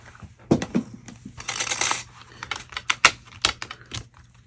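A die-cutting machine takes a card through with a string of close mechanical clicks and clacks, plus a brief grinding rush as the plates pass through the rollers.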